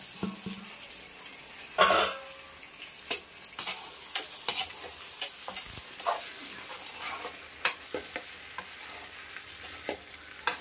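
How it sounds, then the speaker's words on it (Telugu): Chicken pieces stirred into a sizzling tomato and onion paste for capsicum chicken curry, with irregular scraping and clattering spoon strokes over a soft fry hiss, close by and without speech. "వేసుకొని మొత్తం కలుపుకోవాలా, ముక్కకి మొత్తం పట్టేలాగా కలుపుకోవాలా."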